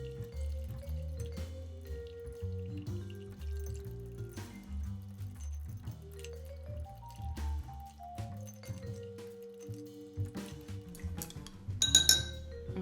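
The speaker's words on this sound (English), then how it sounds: "we're just going to stir this for about 30 seconds to dilute it and chill it down" Ice stirred in a cocktail glass, soft repeated clinks and swirling taps under faint background music, close and quiet, ending in a brighter cluster of sharper glassy clinks.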